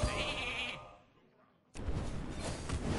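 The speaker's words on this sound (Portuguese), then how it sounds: "Ovelhinha." Sheep bleating in the card game Hearthstone, a short wavering bleat that fades to near silence before a loud burst of game effects cuts in.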